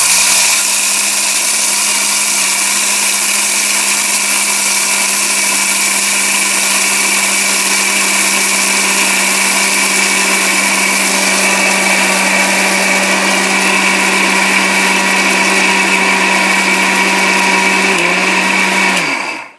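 An Orpat blender grinds rice and gram flour with a loud, steady high-pitched motor whine that runs unbroken for nearly twenty seconds before cutting off at the end, with no talk over it.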